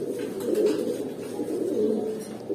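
A male silver pigeon gives low, throaty cooing close by, a few rolling phrases in steady succession with no talk over them.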